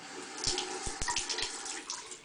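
Lukewarm tap water runs over a dirty makeup brush to wet it, a steady close trickle with small knocks and splashes.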